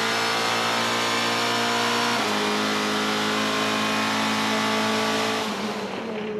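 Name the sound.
race cars racing in GTC series at Killarney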